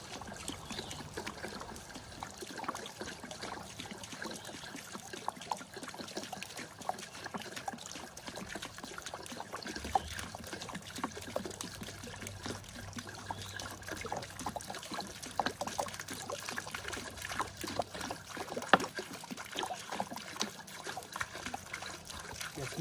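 Water from a DIY off-grid well pump runs into a 5-gallon pail, a soft, steady trickle and splash with faint pumping rhythm, fairly quiet and continuous throughout.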